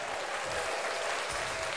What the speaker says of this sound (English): So now I guess we applaud our success for the Trunk or Treat event.